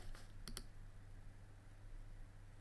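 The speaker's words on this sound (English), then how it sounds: "all I'm going to do is just click redeem" A pair of quick, faint mouse clicks on the redeem button of a Binance crypto trading screen, sounding close together near the start over a steady low electrical hum.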